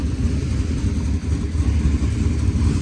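A GMC Denali truck engine fitted with a TSP stage 2 cam rumbles steadily with a choppy low-end pulse, close and loud, with wind buffeting the mic and no talking.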